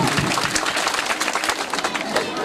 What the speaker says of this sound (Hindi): इनके लिए जोरदार ताली बजाते।